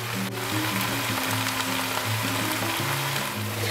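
Vegetables and peas cook in a wok with a steady, close sizzle and frying crackle that carries on without a break, with a faint stirring rhythm underneath and no talking.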